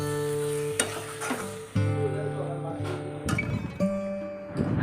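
Water is poured into spice masala frying in a pan, and it bursts into sizzling. Spoon stirring and clinks come in short bursts, and a voice talks over the cooking noise.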